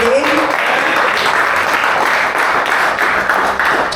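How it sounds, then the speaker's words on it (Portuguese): A church congregation claps during a deliverance worship service, loud sustained applause lasting about four seconds with a faint voice speaking over it. "Aplaudam ao Senhor, que a honra e glória toda dele."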